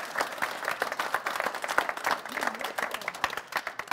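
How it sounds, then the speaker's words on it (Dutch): Audience applause in a local community hall gathering, a dense steady clatter of many hands clapping for about four seconds at moderate level, with a few scattered voices underneath. "Applaus."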